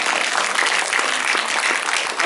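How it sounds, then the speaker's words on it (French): A cinema audience at a film premiere and director Q&A applauds, loud continuous clapping from many hands, close and dense throughout. "on peut les applaudir, mon cher vétérinaire"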